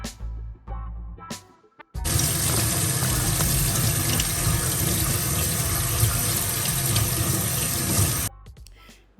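Kitchen tap water runs into a sink while spring onions are washed, a loud continuous rushing stream of about six seconds, framed by brief clunks and handling sounds before and after.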